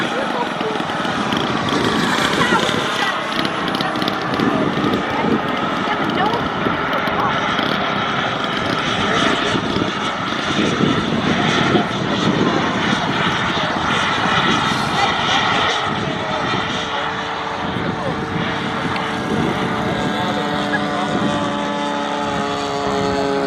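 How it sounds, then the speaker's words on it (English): A 66% scale BD-5 micro jet model flying slowly at an airshow, its steady engine drone continuous and fairly loud throughout, with people talking over it. "you can see just how slow you can get that jet to go"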